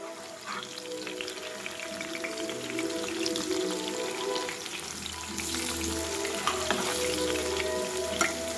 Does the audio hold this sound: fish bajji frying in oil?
yes